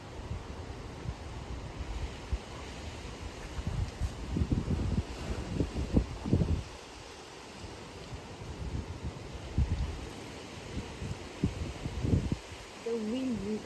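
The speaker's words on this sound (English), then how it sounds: "The wind." Strong wind from Hurricane Ian roars and buffets the microphone in gusts, with bursts of rumbling noise, while people talk nearby.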